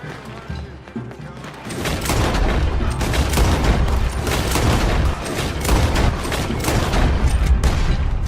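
Loud, dense gunfire in a Red Dead Redemption 2 shootout with gunmen: a brief quieter lead-in, then continuous overlapping volleys of shots and booms that keep going to the end.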